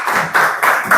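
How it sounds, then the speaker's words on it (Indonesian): A classroom audience claps for a presenting group of students, a brief steady patter of many hands close by. "Berikan tepuk tangan buat kelompok"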